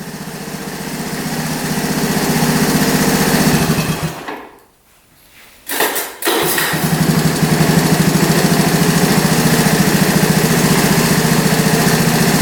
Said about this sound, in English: We're gonna shut it off and then try to fire it back up.